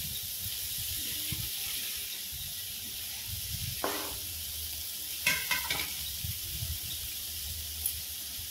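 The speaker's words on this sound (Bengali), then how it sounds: "সিদ্ধ করা আলু আর এঁচোড়টা একটু ভেজে নেব" Boiled potato and jackfruit fry in mustard oil in a kadai, a steady hiss of sizzling broken by a few clattering stirs and scrapes, close and continuous.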